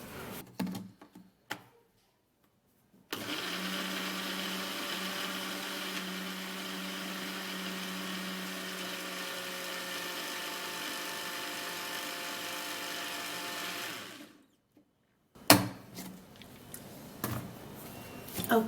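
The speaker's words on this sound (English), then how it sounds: "Now I'll have to blend this out." A blender whirs continuously while blending beetroot with water, a steady mid-loud motor drone of about twelve seconds that starts and stops abruptly, framed by brief handling clatter before and after.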